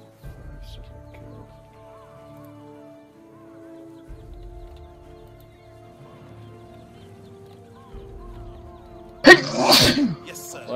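One loud, sudden sneeze near the end cuts through a quiet game soundscape of faint hums and low rumbles.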